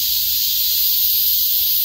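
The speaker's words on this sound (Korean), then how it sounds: "지금 매미들의 울음소리를" Cicadas drone in a steady, loud, high-pitched buzzing chorus on a Korean mountain, filling the air without pause, with no talking.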